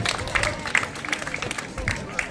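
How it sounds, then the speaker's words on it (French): An audience applauds the dog Azur at the Capfun 2025 canine contest, a dense, steady patter of many hands with a few sharper claps rising above a babble of crowd voices. "Un maximum d'applaudissements pour Azur."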